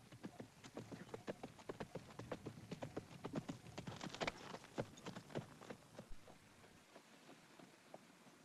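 A horse's hooves clip-clop in a steady walking rhythm during a ride, faint and even, with the hoofbeats thinning out and fading near the end.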